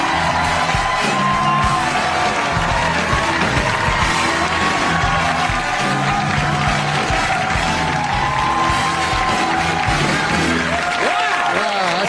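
A studio audience at a talk show cheers, whoops and applauds loudly and without pause as Norm MacDonald walks out, a dense, continuous roar of crowd noise.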